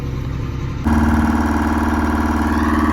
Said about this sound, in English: What an absolute gem of a tractor. Just a noisy beast.